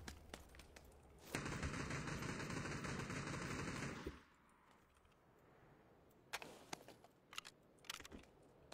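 Sustained burst of video game gunfire lasting about three seconds, loud and dense, followed by scattered fainter sharp shots and clicks over quiet background.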